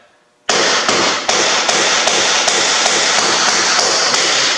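Hammer strikes on a nail while a bat house is being built, a steady series of about ten sharp, loud taps at a regular rhythm, close by, after a brief quiet start.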